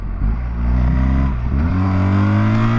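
A BMW motorcycle engine held high near 8,000 RPM in manual mode without shifting, a loud, close, sustained whining rev that climbs slightly and holds steady.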